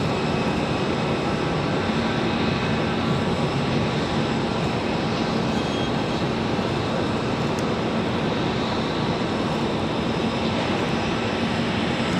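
A United Express Mesa Airlines jet departs Raleigh-Durham International, its engines producing a loud, sustained broadband roar that holds steady without a break throughout.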